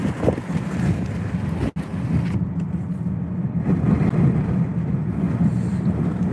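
Hurricane Lee's gale-force wind roars steadily into an exposed microphone at the southeast tip of Canada, a continuous low rushing buffet with a brief dropout partway through and no talk.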